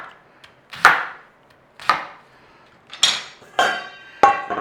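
A knife chops through a cabbage to remove the core: five sharp, loud thuds on a board, spaced roughly a second apart, each ringing off briefly, close up with no talk.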